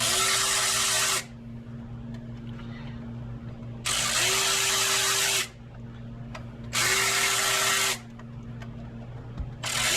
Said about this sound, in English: my friend told me that you could actually use this fancy electro-digital wrench to break these guys loose